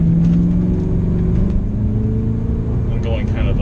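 Volkswagen with a W8 engine, six-speed manual and Remus exhaust pulls hard with a deep, steady engine drone and rumble from inside the car, a rising note near the end, while people talk over it.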